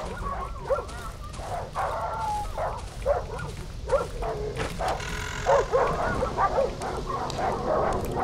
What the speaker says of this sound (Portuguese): Olha o cachorro maromba empurrando as caixas.